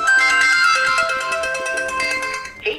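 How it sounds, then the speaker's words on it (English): A ZTE Axon 10 Pro smartphone plays its ringtone in test mode, a bright melodic tone pattern repeating steadily and loudly for nearly three seconds before cutting off into a brief different sound. "Now let us check the ringtone."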